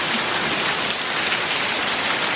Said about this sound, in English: Look at how hard it's raining.